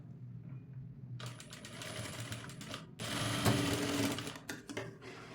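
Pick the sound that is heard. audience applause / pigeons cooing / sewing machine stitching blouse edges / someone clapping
sewing machine stitching blouse edges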